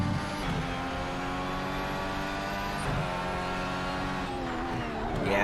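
Race car engine in a sim racing game dropping pitch as it brakes hard into a corner, a steady loud engine drone with falling harmonic sweeps and downshift blips, continuous and close.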